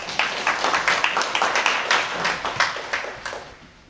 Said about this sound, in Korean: 노봉수 교수를 큰 박수로 환영해 주시기 바랍니다